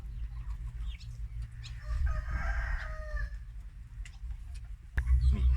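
A rooster gives one clear, loud crow mid-clip among farm chickens kept with a water sprinkler, over a constant low rumble, followed by a sharp nearby knock.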